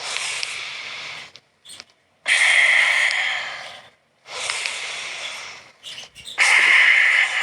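Slow, forceful breaths of a lung breathing exercise, four long airy rushes of air in a steady rhythm with short pauses between, close and fairly loud with no talking.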